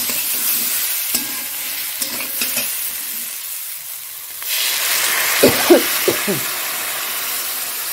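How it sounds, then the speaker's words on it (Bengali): Water pours into a pan of cauliflower and potato curry, with loud hissing sizzle that drops away and then returns with stirring and a few soft bubbling pops. "এবার এর মধ্যে একটু জল দিয়ে দেবো।"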